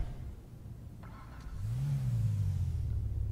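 A car engine in GTA V cranking over and catching, then settling into a low rising drone as it revs up, fairly quiet over a muffled background.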